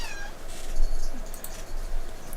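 A pet cat meows amid a noisy indoor scene, its cries rising repeatedly over steady background hiss and clutter at moderate loudness.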